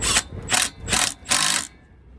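Four quick, close ratchet bursts click sharply as a car's exhaust centre section is tightened, each pull separated by a brief pause, with no talking.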